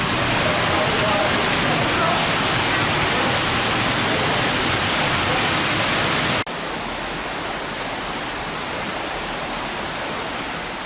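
A waterfall on Lombok, Indonesia roars as a loud, dense, continuous rush of falling water that stays steady throughout, dropping slightly in level partway through.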